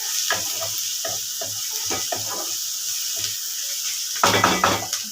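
Chopped tomato hits onions frying in hot oil, giving a loud close sizzle with repeated scraping stirs of a spoon against the pan and a sharper burst near the end.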